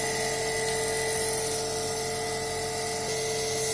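A DC shunt machine runs at 2695 RPM in a lab with a constant, loud, tonal whine and hum. The steady drone does not change from start to finish.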